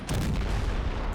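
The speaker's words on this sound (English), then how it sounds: "All right, our AT is firing now. Pack 36s." Pak 36 anti-tank guns fire in the Men of War: Assault Squad 2 strategy game, a dense, continuous roar of overlapping heavy cannon blasts and booms filling the whole moment without a break.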